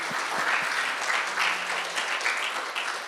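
A church congregation applauding mothers at a Sunday service, dense sustained clapping from a large crowd filling the room, steady throughout with no speech over it.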